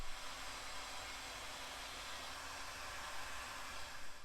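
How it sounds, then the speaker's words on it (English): A heat gun blows steadily while shrinking heat shrink tubing over soldered wire connections during a radio install in a Sprinter van; the continuous airy whoosh stays loud and even throughout, with no talking. "let's move it up and over those connections and shrink it with a heat gun"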